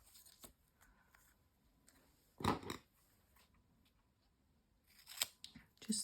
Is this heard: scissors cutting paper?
yes